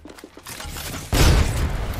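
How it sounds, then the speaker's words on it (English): A frag grenade goes off in Apex Legends with a sudden heavy boom. It swells into a loud, rumbling blast that lingers for about a second after a few faint ticks and rustles beforehand. "Frag out."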